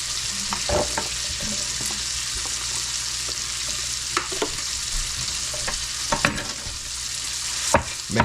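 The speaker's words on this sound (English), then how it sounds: "So now that you have your bacon crisping up" Bacon frying in a pan, a steady close sizzle and crackle with occasional sharper pops and utensil scrapes, no voices.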